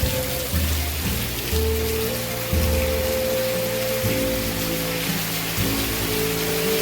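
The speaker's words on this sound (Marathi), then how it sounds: "बघा किती पाऊस आहे जोरात मुसळधार एकदम" Heavy monsoon rain pours down steadily in Konkan countryside in a dense, continuous hiss, with low tones droning underneath and no one speaking.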